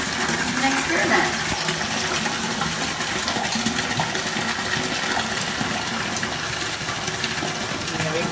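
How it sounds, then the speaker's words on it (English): Water runs continuously into a bathtub in a steady, broad, hissing gush that stays loud and even throughout, with no pauses. "Let's pour it into the water here, under some running water, and let's see what happens."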